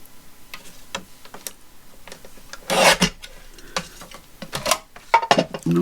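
Snipping and rustling of paper being trimmed with scissors for a mixed media collage, a series of close, crisp cuts and rubs in irregular rhythm, with a louder crunchy burst partway through and no talk.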